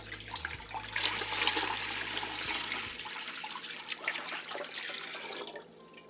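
A gallon of water poured into a container for fabric dyeing with Tulip dye, a continuous splashing, gurgling pour that lasts several seconds, with a low hum in the first half and the sound fading toward the end.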